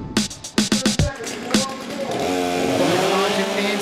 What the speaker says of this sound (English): Argent and Steers are revving the STIHL MS-661 chainsaw